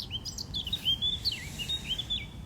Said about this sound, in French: Accompagné par les chants d'oiseaux